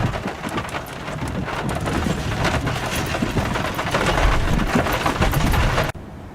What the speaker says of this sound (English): We're in the middle of a hailstorm.